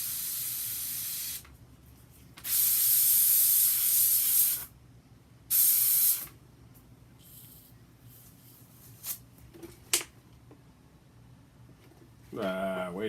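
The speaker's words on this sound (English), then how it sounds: "Use the airbrush for that." An airbrush sprays paint onto a model in loud hissing bursts separated by pauses, with a longer burst followed by a shorter one. Faint handling noises and a few clicks fill the quieter gaps.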